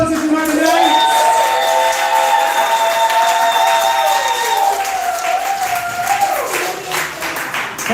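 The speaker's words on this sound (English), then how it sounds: "clap for all the poets that you heard today." An audience at a poetry slam applauds the poets with sustained clapping, cheering and whoops, loud and crowded, while a voice calls out over the noise.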